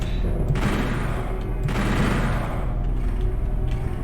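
Sustained gunfire hits a monster in Doom 64: dense, loud shots repeat in a steady rapid rhythm, with heavier bursts punching through at intervals.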